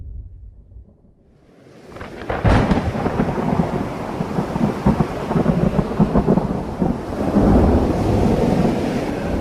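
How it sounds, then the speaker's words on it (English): Heavy rain pours steadily through a violent thunderstorm at sea, with rolling thunder cracking loud and close early on, then a dense continuous roar of rain and wind with no voices. "Throughout September, we endured terrible storms."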